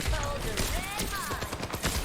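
Ana's rifle in Overwatch 2 firing shot after shot in a fast, sharp string, the cracks close and loud over busy match noise.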